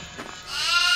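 Goats bleat in a horror video game, with a drawn-out, wavering animal cry that swells and grows louder toward the end, standing alone with no speech.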